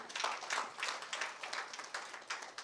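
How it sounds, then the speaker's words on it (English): Audience clapping at a public speaking event, a short round of scattered applause at moderate volume, steady throughout with no voices over it. "clap for that man"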